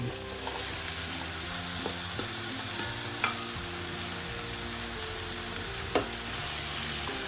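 Sliced bottle gourd sautéing with sardines in a pan, a steady close sizzle with occasional utensil taps and scrapes as it is stirred, no voices.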